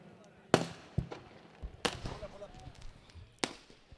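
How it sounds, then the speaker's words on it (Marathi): Firecrackers burst at a village cricket ground in Kongaon during a big tournament's welcome ceremony, several sharp loud bangs spaced out over a few seconds, one close and heavy, with crowd noise and talk in between. "फटाक्यांची आतषबाजी"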